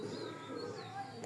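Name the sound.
racing pigeons cooing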